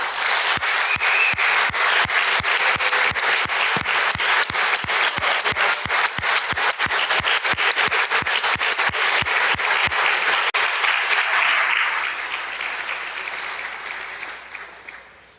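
A crowd on the Mississippi House floor applauds a 6A state champion basketball team, with dense sustained clapping that holds steady and then fades out over the last few seconds.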